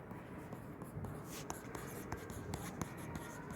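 A pen scratches steadily across paper while someone writes out math answers in a Korean sixth-grade workbook. Soft, continuous strokes come with small taps and lifts, close and quiet, with no talking.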